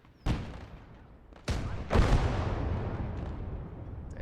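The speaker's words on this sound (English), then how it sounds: "And something's shooting at us." Gunfire in the WWII game Gates of Hell: Ostfront, three sharp heavy shots at uneven intervals, each trailing into a long rumbling echo that stays loud and fills the gaps, with no talking over it.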